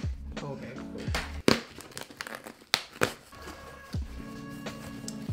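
Packaging of a Tamron 17-28 lens being cut and torn open by hand, giving close crinkling and tearing bursts with a few sharp rips and taps, under occasional light talk.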